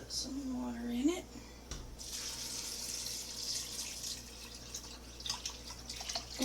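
Water runs from a tap into a pot of rinsed, soaked pinto beans, a steady close splashing stream that sits under a brief bit of talk near the start.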